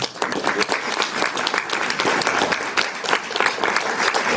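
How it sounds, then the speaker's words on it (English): A conference plenary audience breaks into applause as panelists are welcomed, a dense, even wash of clapping that stays strong for several seconds. "Just a round of applause as I welcome this"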